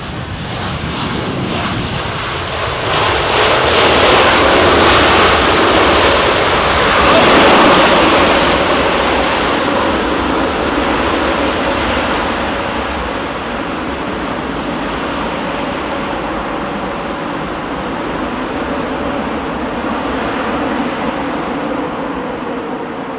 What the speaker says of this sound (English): Another Air India jet.